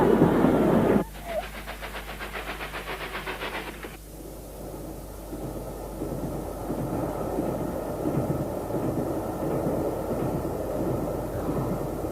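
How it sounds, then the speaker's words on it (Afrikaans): A cartoon train slows toward a stop with a brief loud burst, then a rhythmic clatter and hiss that fade into a steady low rumble that continues to the end. "Ek dink die trein gaan stilhou."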